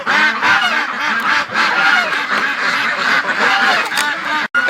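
Muscovy ducks on a frozen, icy morning honk and hiss insistently at close range, a dense, continuous chorus of rough calls with no talk over them.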